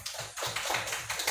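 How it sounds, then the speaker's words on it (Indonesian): A short burst of classroom applause for a student group after a presentation, a handful of quick, fairly soft claps in an uneven rhythm. "beri tepuk tangan untuk kelompok"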